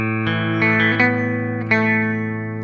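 A distorted electric guitar with effects plays a sustained melodic line from a song, notes ringing over a held low tone, close and clear with no talking.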